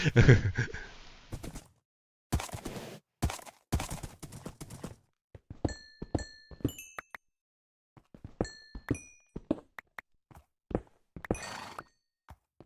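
Minecraft horse hooves clip-clopping in uneven bursts of steps with short pauses, interspersed with thin high-pitched tones, crisp and close with no talking.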